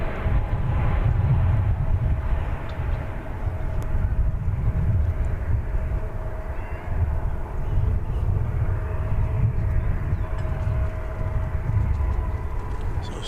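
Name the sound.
Fiji Airways heavy jet on final approach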